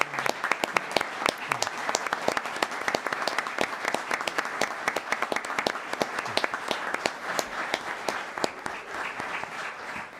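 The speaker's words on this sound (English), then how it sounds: "Please join us in welcoming with a warm Glendale round of applause to the podium the next chief" An audience at a Glendale city council meeting gives a warm round of applause as the new police chief comes to the podium, with many hands clapping sharply and steadily for about ten seconds.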